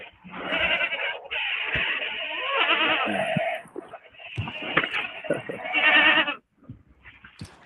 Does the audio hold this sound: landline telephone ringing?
no